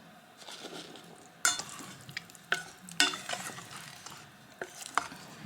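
About half a tin of peas is tipped into a pasty filling in a pan and stirred, with soft sizzling broken by a few sharp spoon scrapes and clanks close by.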